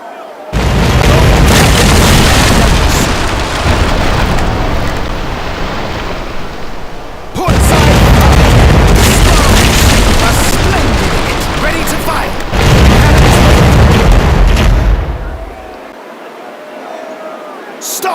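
Huge booming blasts roll out in long waves, several heavy ship cannon broadsides in a video game one after another, loud and rumbling, with shouted commands in between.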